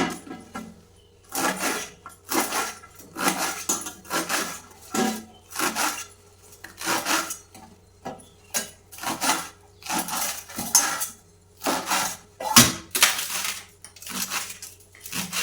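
A knife chops amaranth leaves (thotakura) on a board, with steady, close, rhythmic strokes and short pauses between runs of cuts. The chopping carries on almost alone, with little talk.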